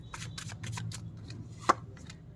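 Tarot cards shuffled and set down, a few quick soft riffling bursts followed by a light tap as a card lands, close and quiet.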